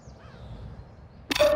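A crow caws in the Call of Duty DMZ video game, faint and distant over a low ambient background, before a sudden loud burst near the end.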